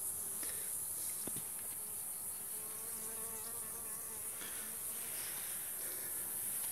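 Honeybees crawl toward their hive during colony care, giving a faint, steady buzzing hum with soft scattered wingbeat flurries, close by and continuous, with no talking.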